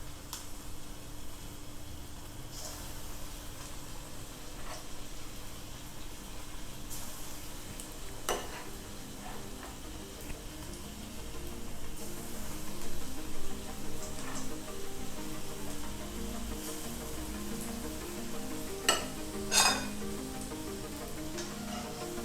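Banana fritters frying in oil that is not yet very hot, a steady low crackle and sizzle with occasional sharper pops, fairly close and continuous with no talking.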